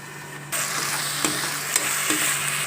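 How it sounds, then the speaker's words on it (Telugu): Onion paste with salt and chili powder cooks in a pan and sizzles steadily once the heat hits after a short quiet start, with a few sharp scraping clicks of a spoon stirring it, close by and with no talk. "ఈ ఉల్లిపాయ పేస్ట్లో ఇలా బాగా కలపాలి, ఉప్పు కారం వేసి."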